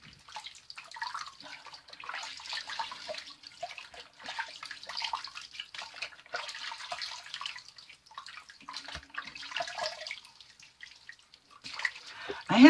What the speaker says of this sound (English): do a hot water rinse, and then a very cold water rinse